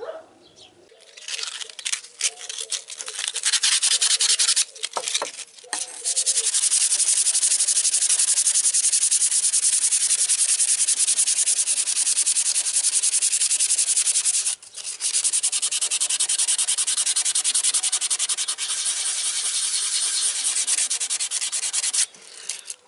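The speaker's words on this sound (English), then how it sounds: "What I'm using right here is a 220 sandpaper, wet dry" Knife steel is rubbed by hand with 220-grit wet/dry sandpaper, a close, loud, continuous scratchy hiss in long strokes with brief pauses, steady for most of the stretch.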